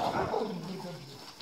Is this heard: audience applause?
no